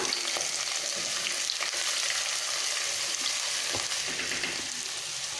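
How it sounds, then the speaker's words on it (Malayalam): Sliced medium onions hitting a hot pan for shakshuka give a steady, loud broadband sizzle with occasional crackles and stirring clicks, continuous throughout with no talking. "ഇതിലേക്ക് നമുക്ക് സവോള ഇട്ട് കൊടുക്കാം."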